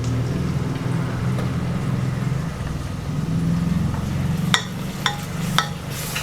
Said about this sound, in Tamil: இஞ்சி பூண்டு பச்சை வாடை போகிற அளவுக்கு நல்லா வதக்கிக்கலாங்க.